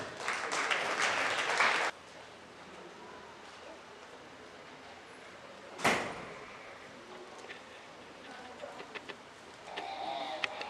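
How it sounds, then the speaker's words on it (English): Short burst of applause at a 4-H goat show at the Paulding County Fair, clapping that stops abruptly after about two seconds, followed by quiet barn ambience with a sharp bang and faint chirps. "Let's give these guys a round of applause."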